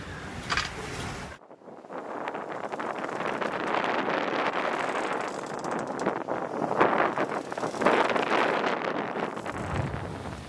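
Wind heard from below deck inside an aluminum sailboat underway at night in building seas; a muffled, gusting whoosh rises and falls after a brief sharp knock near the start.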